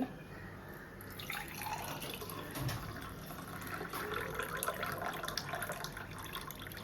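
Rice water is poured into a container, giving a soft, steady trickling splash that runs for several seconds at low volume with no voices.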